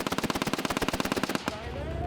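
A CV-90 armored vehicle's 7.62mm coax machine gun fires a rapid, loud burst of about twenty evenly spaced shots, then stops, leaving a fading echo and low background rumble.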